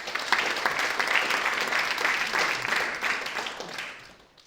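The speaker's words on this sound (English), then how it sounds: "So a big round of applause for Estelle." Conference audience applauding a speaker at a climate and carbon markets summit, steady dense clapping from a crowd that holds level, then thins and fades out near the end.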